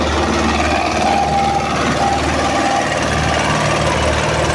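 A loud, steady tractor engine drones continuously up close while ploughing, with a low rumbling hum and no talking.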